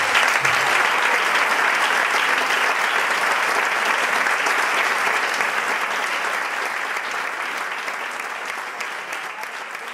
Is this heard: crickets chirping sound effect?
no